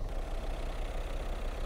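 Peugeot/Citroen 1.5 HDi diesel, 130 hp, with AdBlue, idling under the bonnet of a Peugeot 3008 or Citroen C5 Aircross: a steady, close low diesel clatter holding an even rhythm throughout, with no talk.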